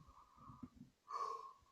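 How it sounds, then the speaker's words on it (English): A person yawns close to the microphone, a drawn-out breathy exhale that swells and then fades, heard alone without speech. "Don't know why I'm yawning."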